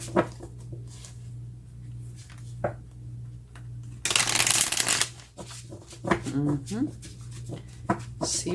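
Tarot cards are shuffled and drawn in several quick riffling bursts, with one loud dense shuffle in the middle, plus soft card slides and taps, heard close up under a steady low hum alongside intermittent talking.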